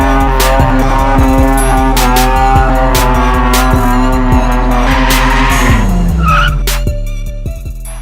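A car doing a burnout, its tires skidding loudly in a continuous squeal with a harsh, rhythmic screech that bends downward and fades toward the end.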